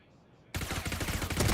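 Gunfire breaks out abruptly in a Valorant esports match after a quiet moment, rapid loud shots packed tightly together and running to the end.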